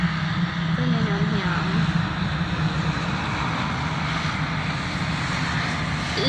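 Airplane landing at an airport: a steady, broad roar of engine and rushing air holds throughout, with a faint voice briefly audible beneath it.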